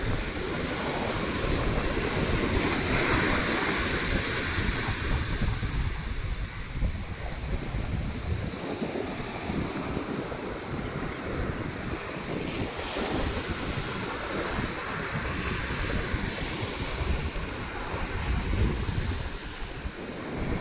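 Sea waves wash steadily onto the beach at Digha, a continuous broadband roar of surf mixed with wind buffeting the microphone, loud and close throughout with no speech.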